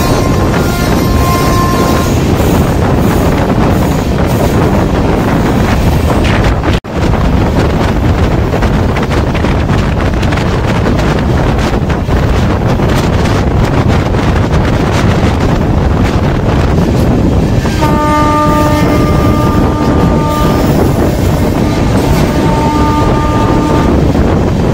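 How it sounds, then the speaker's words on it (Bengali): Sairang Kolkata Express train racing through Batkulla station, a loud continuous roar of wind and rushing rails with dense noise throughout, a brief break partway, and a few faint tonal horn-like notes near the end. "মুহূর্তে আমাদের train Batkulla rail station skip করছে।"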